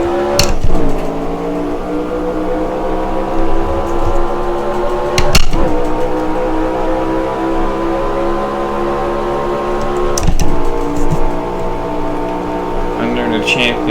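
Stock car engines in the NASCAR Racing 2003 sim at Riverside, a steady droning whine with three sharp shift or transient breaks, loud and continuous.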